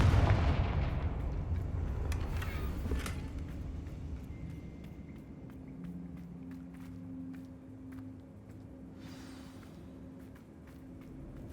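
A Confringo fire spell bursts in Hogwarts Legacy with a loud booming blast at the start, then a rumbling decay and faint crackles as the explosion fades, with no talking.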